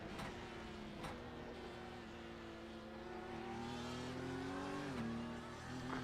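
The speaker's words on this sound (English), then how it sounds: "On the right of us we can hear a Porsche" A Porsche GTE race car engine in a racing video game at Interlagos drones steadily at high revs with a rising and falling pitch, loud and continuous, with a brief shift in tone near the end.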